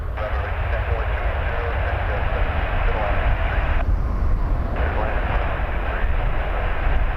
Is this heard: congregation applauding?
no